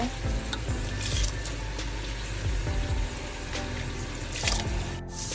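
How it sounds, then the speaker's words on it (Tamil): Water goes into a pot of basmati rice with ghee, cinnamon, cloves and cardamom for mushroom biryani, a steady bubbling, sizzling rush with occasional clinks and stirring sounds throughout. "அதோட இப்போ அரிசியை சேர்ப்பேன் தண்ணி விட்டுட்டு"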